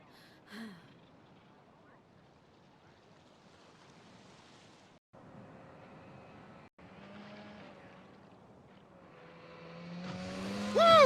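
A jet ski runs on the water at a beach, its engine droning steadily with a rising whine that grows louder and closer toward the end, over a background of surf.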